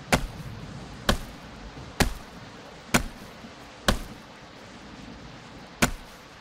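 A tree is chopped on a tropical island in the survival game Project Castaway: six sharp, evenly spaced thwacks about one second apart, close and distinct over a faint rainy background, with no talking.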